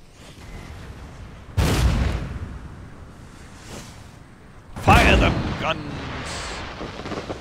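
Gunfire and artillery in a battle video game set in the Mahdist War at El Obeid: two heavy booming blasts with rumbling tails stand out over a steady low din of distant battle noise.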